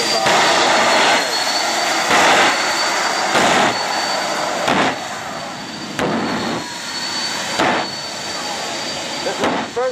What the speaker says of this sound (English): This is the jet-powered Lincoln Navigator.